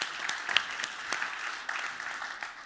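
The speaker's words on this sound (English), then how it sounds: "Give a big applause for Triinu." A founder-stories event audience gives a fairly quiet, continuous round of applause, with a few sharper claps standing out in the soft wash of hands.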